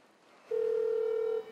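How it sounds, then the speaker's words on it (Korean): A single long electronic telephone tone sounds for about a second inside a small office, steady and clear over a faint room hum, as a call goes unanswered. "제 전화를 안 받아요, 지금 계속."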